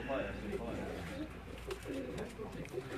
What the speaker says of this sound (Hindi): ये उन्हीं के घर के जो कबूतर हैं ये आपको दिखाए जा रहे हैं।